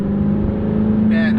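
C7 Corvette fitted with an AWE Track Edition axleback exhaust and AWE X-pipe, a steady loud engine drone while cruising in gear, close and continuous with a brief higher whine near the end.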